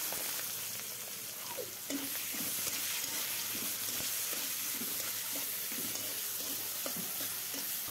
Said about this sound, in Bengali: আমি এখন এর ভিতরে দিয়ে দিব